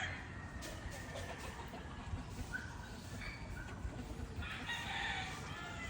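Fighting cocks being readied for an upcoming stag derby crow and cluck faintly in the distance, with outdoor background noise and muffled voices nearby.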